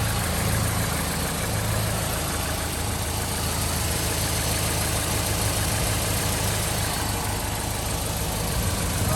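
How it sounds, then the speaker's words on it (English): A 2013 Chevrolet Caprice PPV engine idles steadily up close with a fast, even ticking from the injectors firing. No one speaks. "That actually almost sounds like the injector's firing."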